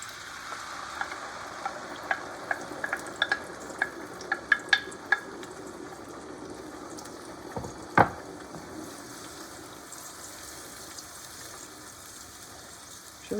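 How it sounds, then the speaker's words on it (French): Tomato juice poured into hot garlic-flavoured oil while making pizza sauce, giving a soft sizzle with scattered clicks and one sharp clatter midway, then a quieter steady fry. "Et je vais venir verser le jus de tomate"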